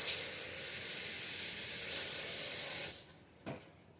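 A cutting board with breadcrumbs on it is rinsed under a kitchen tap, giving a steady rushing spray of water that stops abruptly near the end, followed by a single brief clack, with no talking.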